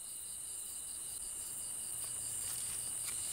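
A cricket chirps continuously in a steady, shrill trill that holds at an even level, faint and quiet, with no other sounds behind it.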